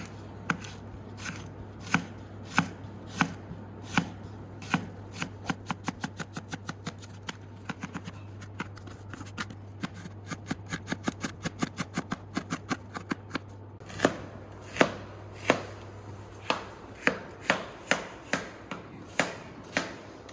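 A knife chops onions into fine rings on a cutting board in crisp, evenly spaced strikes that speed into rapid runs and then slow again, over a steady low hum.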